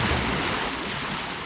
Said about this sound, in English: And the water passes over without any damage.